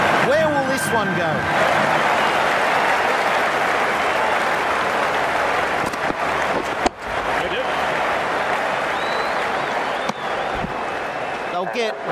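Stadium crowd cheering and applauding in the cricket video game Ashes Cricket 2017: dense, steady roar of clapping and cheering throughout, loud and continuous, with commentary voices speaking over it.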